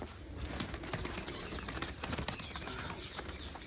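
A pigeon flaps its wings close by, a flurry of rapid fluttering beats with one stronger burst of wingbeats partway through.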